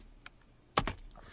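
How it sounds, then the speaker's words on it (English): A few close, crisp clicks on a computer keyboard as a fastboot command is typed, one light tap followed by two sharper keystrokes in quick succession. "what I'm going to type is fast boot"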